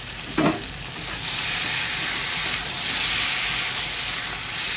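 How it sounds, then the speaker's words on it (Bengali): Fish curry hisses and sizzles steadily in a pot once the lid comes off, a brief clatter early on, then a continuous close frying hiss as it is stirred. "একটু ঢাকাটা খুলে নাড়িয়ে দিচ্ছি"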